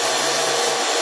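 A Warner & Swasey turret lathe runs with its cross slide feed engaged, giving a steady, loud, broadband whirring hum with no pauses and no voices.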